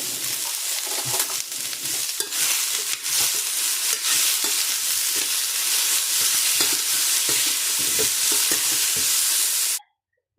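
Corn, paneer and capsicum stir-fried in a kadai, with a loud, steady sizzle and frequent scraping and clinking of the spatula against the pan, continuing for about ten seconds before cutting off abruptly.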